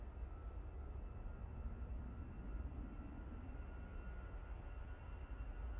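An EasyJet airliner bound for Palma de Mallorca, heard from Manchester Airport, rumbles in a faint, distant, steady low roar for several seconds with no voices.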